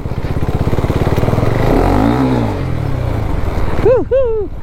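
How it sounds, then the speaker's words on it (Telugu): A motorcycle revs hard with its tyre spinning while drifting on a muddy off-road trail to Rajmachi Fort near Lonavala. The engine note rises and falls loudly and up close, and a voice calls out briefly at the end. "ఎందుకని చూడండి టైర్ స్పిన్ అయింది"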